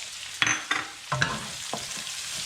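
Garlic and onion sautéing in a pan for pork dinuguan, a close sizzle broken by several scraping stirs and clatters of a utensil against the pan, with no talking.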